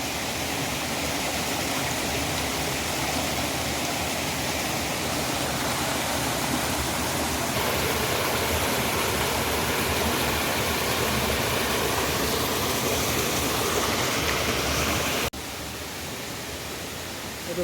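A waterfall in a hill forest of Mayurbhanj, Odisha, roars as a steady broadband rush of falling water, loud and continuous throughout, with a slight drop in level near the end.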